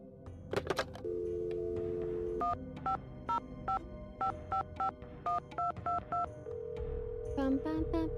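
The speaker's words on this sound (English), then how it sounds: "Am I dialing this number wrong?" A telephone number is keyed in on a phone in the Nancy Drew game Secret of the Scarlet Hand: a dial tone, then a steady series of distinct touch-tone beeps, clear and close, followed by a ringing tone.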